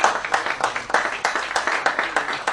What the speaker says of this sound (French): Nous allons applaudir.